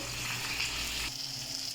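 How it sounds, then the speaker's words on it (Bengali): Pieces of fish frying in oil, a continuous soft sizzle that drops slightly in the middle, quiet and close with no voices. "এই যে বন্ধুরা, ভাজতে থাকছি, এবার একটু কড়া করে ভাজবো।"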